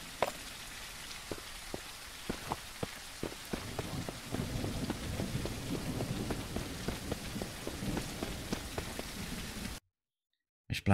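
Steady rain falls in the survival game Mist Survival, dense drops pattering on surfaces while low thunder rolls underneath, building slightly before cutting off abruptly near the end.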